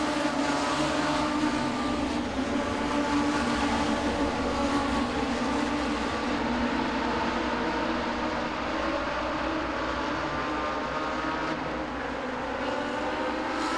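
Legends race cars battle for the lead at Langley Speedway, a steady, loud engine roar that holds throughout with no break, several cars droning together on the oval.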